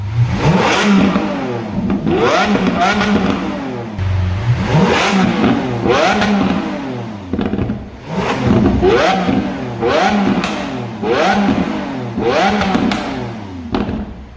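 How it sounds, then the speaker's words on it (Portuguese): A Lamborghini Aventador V12 revs hard again and again, loud and close, each climb rising to a harsh, raspy peak and falling away in a steady rhythm, with no voices. "O que a Lamborghini fez na Aventador foi mudar essa característica desse V12 e trouxe mais notas ríspidas e embaralhadas, com som um pouco mais grave."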